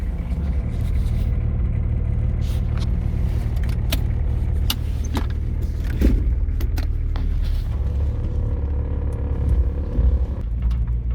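A car driving along a seaside road in New Zealand, a steady close engine-and-road rumble filling the cabin with occasional small knocks and rattles, no talk over it.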